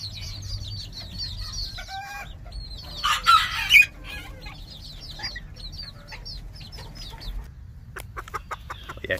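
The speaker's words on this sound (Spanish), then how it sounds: "Este se nos salió la gallina." Chickens cluck and chatter nearby in a busy farmyard, with a rooster crowing briefly and other birds calling faintly in the background.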